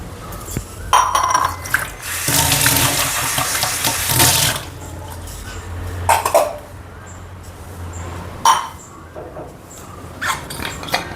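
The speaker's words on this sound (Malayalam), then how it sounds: "ഞാൻ ബാക്കിയുള്ള വെള്ളം ഗ്ലാസ്സിലേക്ക് മാറ്റിയിട്ട്" Leftover boiled water poured from a flask into a glass in a home kitchen, a couple of splashy pouring bursts with clinks and a cough between quieter stretches.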